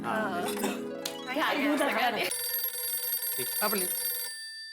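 A telephone rings with a steady electronic tone after a stretch of talking, continuing for a couple of seconds before cutting off; voices overlap briefly.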